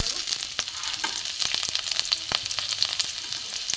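Chopped garlic fries in hot mustard oil with cumin seeds, giving a dense, crackling sizzle full of rapid pops and spits that continues steadily and close, with no talking.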